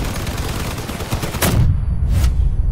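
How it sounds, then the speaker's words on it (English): Cannon blasts and gunfire in the Crossout vehicle combat game, loud sharp bursts of shots over continuous battle noise, with a heavy impact late in the brief stretch. "So I just got hit by a large cannon."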